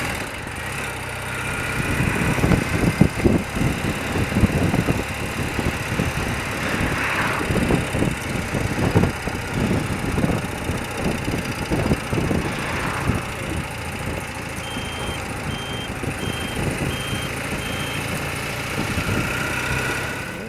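An old motorbike engine idles steadily nearby, a low rumbling chug with a fast, uneven pulse that runs throughout at a fairly loud, constant level, with no talking.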